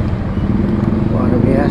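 Dense morning road traffic of cars and motorcycles on the Kairagi–Airmadidi road near Manado, a loud, close, steady engine rumble with a voice talking over it.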